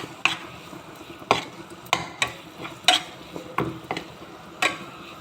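A spoon stirs thick curry leaf thokku in a kadai, making soft scraping and clicking strokes against the metal pan at an uneven pace, close and fairly quiet, with no talking.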